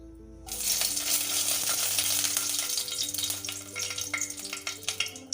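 Dried red chillies crackle and sizzle as they hit hot oil in a pan, a dense steady frying hiss with scattered sharp pops, close and alone.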